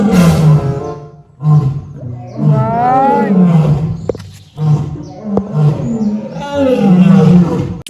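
A lion at Khon Kaen zoo roars in several long, loud, throaty bursts separated by short pauses, close and dominant throughout.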